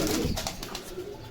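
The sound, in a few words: pigeons cooing at a pigeon market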